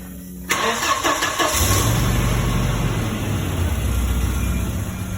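A Volvo 240 with a no-start fault cranks briefly, then catches and settles into a steady, close idle that continues to the end.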